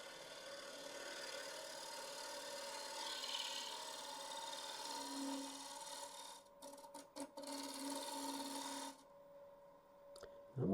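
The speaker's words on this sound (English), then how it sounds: "I'm using this large Carter & Sons negative rake scraper" A large Carter & Sons negative rake scraper shaves tool marks off a wooden piece turning on a wood lathe, giving a steady rasping scrape over the motor hum, broken by short pauses as the tool is lifted and repositioned.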